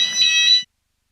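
A shrill electronic fire alarm tone beeps briefly at a cricket ground, loud and steady for about half a second before cutting off into silence.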